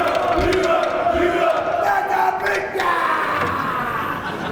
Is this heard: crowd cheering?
yes